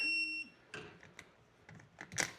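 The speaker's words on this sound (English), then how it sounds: "This one has a vibrate and a beep." A digital device gives a short, clear high-pitched beep at the start, followed by faint clicks and handling taps in a quiet room.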